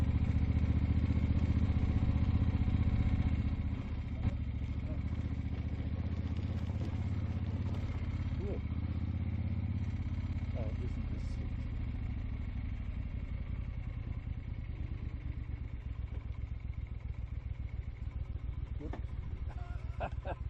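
A 1972 Cadillac Eldorado's low, mellow exhaust drones steadily while driving, rumbling continuously with faint clattering, the tone easing slightly after the first few seconds.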